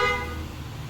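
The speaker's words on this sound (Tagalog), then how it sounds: "busina natin" A car horn sounds in one sustained, blaring honk from a vehicle being tested with a lead-acid versus lithium battery setup, close and steady, trailing off as the tone weakens.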